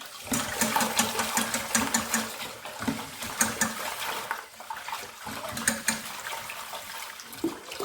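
Rice being agitated and rinsed by hand in a bowl of water in a home kitchen, with continuous close sloshing, swishing and splashing that surges and eases in irregular pulses.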